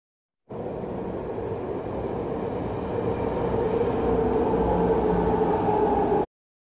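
Caltrain commuter train ride heading toward Millbrae: a steady, loud broadband rumble of the rail car in motion that grows slightly stronger over several seconds, with no talking.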